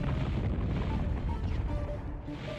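Explosion in the video game Fire Fight: a dense, loud rumbling blast with crackling debris that stays sustained and noisy throughout, with no let-up.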